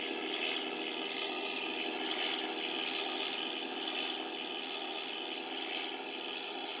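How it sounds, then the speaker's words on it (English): Propeller airplane in a flight simulator game takes off at full throttle, a steady, even engine drone with a droning propeller hum, continuous and unbroken throughout. "Gonna crack the throttle all the way up. Alright, so now I'm gonna start taking off and hope everything goes well."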